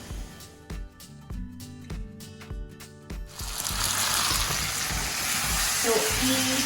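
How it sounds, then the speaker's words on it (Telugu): Tomatoes are dropped into a pan of fried onions for a Chennai-style tomato chutney, with a series of tonal clanks and taps first, then a loud, dense sizzle of frying that swells and holds steadily, heard close up. "సో ఈ టమాటోస్ మాత్రం మనకి మంచిగా నీరు వదిలి బాగా ఫ్రై అయిపోవాలి."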